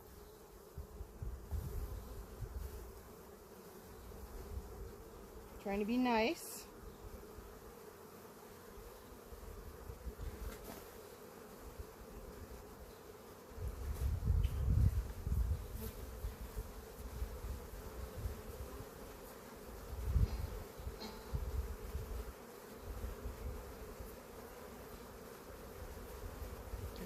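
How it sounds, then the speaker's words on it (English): Honey bees hum steadily around hive frames during a honey harvest, a close, continuous buzz with brief louder rustles and a short spoken phrase partway through. "I'm gonna try to flick these bees off now."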